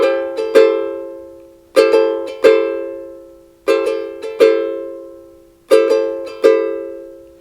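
Ukulele strummed in a Cook Island pattern, bright chord strokes falling in repeating groups of quick down-up hits with short pauses between, close and clear, no voices.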